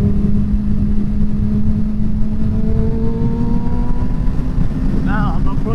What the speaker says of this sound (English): the amount of satisfaction you get from hearing the engine noise slowly come down is